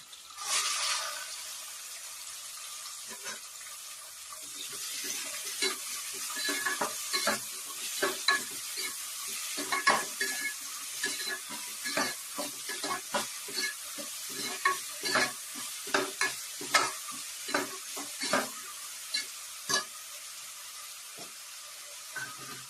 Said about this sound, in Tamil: எல்லாம் பொரிஞ்சதுக்கு அப்புறமா 4 மீடியம் சைஸ் வெங்காயம் சின்ன சின்னதா கட் பண்ணி சேர்த்துடலாம்.